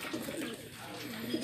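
A racing pigeon coos softly and close, giving low throaty burbles that rise and fall over a little more than a second.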